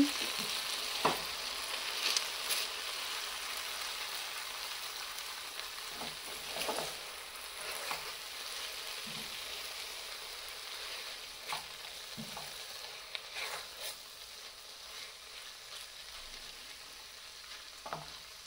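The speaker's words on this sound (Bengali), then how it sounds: "এখন হচ্ছে আবার ঢাকাটা উঠিয়ে নেড়ে দেব।" Food frying in a pan on a stove, a steady soft sizzle with occasional scraping and knocking as it is stirred, close and alone without talk.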